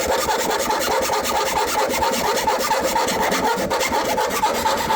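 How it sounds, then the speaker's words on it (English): An old hand file rasping against the sides of a hole in a shop working on a 1987 Honda Civic Si, a dense continuous grinding scrape with rapid strokes, close and fairly loud, with no voices. "see if he can fit this trusty old file in there"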